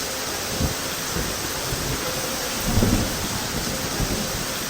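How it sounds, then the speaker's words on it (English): Thunderstorm on Koh Samui, Thailand: steady heavy rain hisses throughout while low thunder rumbles swell briefly, the loudest roll coming near the end, with no voices. "So we're having a little bit of rainy weather,"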